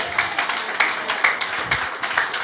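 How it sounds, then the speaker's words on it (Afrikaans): A congregation claps along in steady rhythm during a church service, sharp, evenly spaced hand claps filling the room with a bright, lively texture and no speech over them. "Kan ons hier hande klap gee?"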